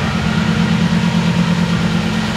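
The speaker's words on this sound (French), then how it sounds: "qui tourne parfaitement bien au ralenti, c'est souple, ça tourne rond" A Toyota UZ V8 engine in a Nissan S13 drift car idles on a dyno with a smooth, steady, even low hum that holds at constant loudness throughout, close up and with no talk over it.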